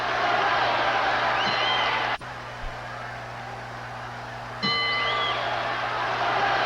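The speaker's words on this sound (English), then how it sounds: "That is the bell for round 11" A boxing ring bell rings in a crowded arena, with a sharp clanging ding heard twice, a few seconds apart, ringing out over steady crowd noise.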